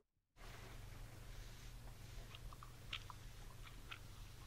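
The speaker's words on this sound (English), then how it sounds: "God damn, chewing again" Faint close-up chewing of food, soft irregular crunches and mouth sounds over a steady low hum, with no speech.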